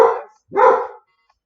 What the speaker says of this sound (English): Doug knows who that is that's doing all the barking.